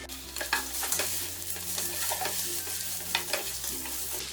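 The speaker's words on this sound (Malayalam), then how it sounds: "ഇനി ഇതിലേക്ക് ഈ രമ്പയില കട്ട് ചെയ്തിട്ട് ഒന്നും കൂടി ഇതൊന്ന് ഇളക്കി കൊടുക്കാം." A spoon stirs egg biriyani masala frying in a pan with green chillies and curry leaves, giving a soft, continuous sizzle with gentle scraping strokes, close but quiet.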